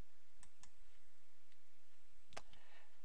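Computer mouse clicks while working in web page building software: a couple of soft, close clicks early on, then a sharper single click later, all against a quiet background hum.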